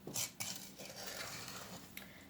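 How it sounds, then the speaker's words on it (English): A utensil clinks and scrapes against a bowl as egg is mixed into a homemade batter, with a couple of sharp knocks early, then steady soft stirring. "I'm just gonna dump this in to this mixture, all the egg, and then mix this"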